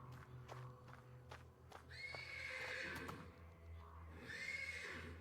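A horse in a stable neighs persistently, loud whinnies rising and falling over a few seconds, with faint hoof clip-clops and shuffling in between.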